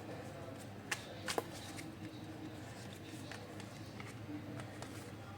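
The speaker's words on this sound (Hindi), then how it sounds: "एक कार्ड और लेते हैं बाबा से" Tarot cards shuffled by hand in a few quick, soft riffling bursts, close and fairly quiet against a faint background hum, with a voice talking.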